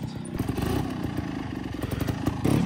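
A trials motorcycle engine revs and clatters close by on a very wet, slippery course, with a steady uneven burble and pops over about three seconds, rising louder at the end.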